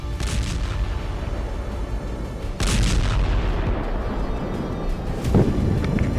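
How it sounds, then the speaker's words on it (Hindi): Powerful explosions from air strikes in Beirut sound as deep, booming blasts over rough wind-buffeted rumble, with a strong hit near the middle and another later, loud and distant-sounding. "लेबनान की राजधानी बेरूत में कई शक्तिशाली विस्फोट हुए।"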